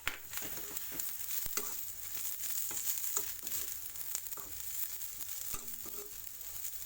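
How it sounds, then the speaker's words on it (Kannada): Tomato pieces frying in a pan for roasted coconut rasam, a soft steady sizzle broken by scraping stirs and clicks of a spatula, close and quiet with no talk. "ಒಂದು ಟೊಮೆಟೊ ಕೊಯ್ದಾಕಿ ಹುರಿತೇನೆ"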